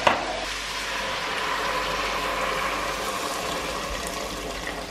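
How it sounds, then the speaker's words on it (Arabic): Hot water poured into a pot of sautéed meat with garlic and onion, a steady rushing splash and hiss that runs nearly unbroken for five seconds and starts with a sharp burst. "هنضيف بقى عليها الميه السخنه عشان تتسلق"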